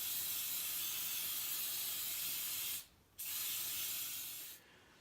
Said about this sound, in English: the first thing we have to do is spray glue this so everything's going to stick to it.